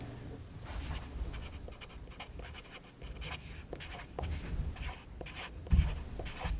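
Pen or marker writing on Mylar plan sheets at a town planning board meeting, a steady scratchy scribbling texture with soft taps and light rustle close by, with no talk over it.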